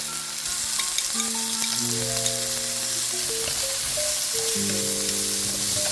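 Steady sizzling of zucchini, bell pepper and minced garlic frying in hot oil in a pan, continuous and fairly loud, with tonal hum lines running underneath throughout.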